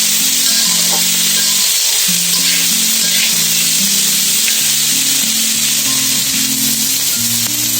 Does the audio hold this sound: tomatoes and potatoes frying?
yes